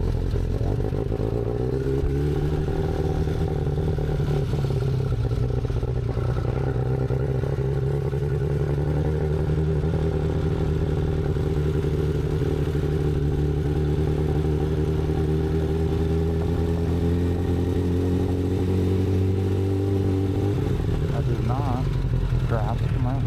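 Motorcycle engine running during a ride: a continuous close, loud engine drone whose pitch sags and rises slightly over about twenty seconds, with wind rumble throughout.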